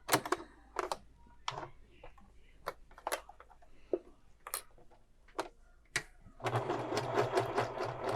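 A sewing machine fitted with a zipper foot stitches fabric in short bursts separated by pauses, then runs in a longer continuous whir near the end, close and fairly quiet, with faint talk between the bursts.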